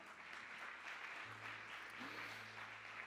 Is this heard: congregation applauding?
yes